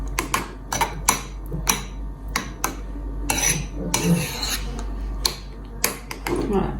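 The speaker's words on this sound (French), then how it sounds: "On mélange le tout." Utensil clinks and scrapes against a bowl while mixing ingredients, sounding as a series of sharp, close taps and short scrapes, with a person speaking in between.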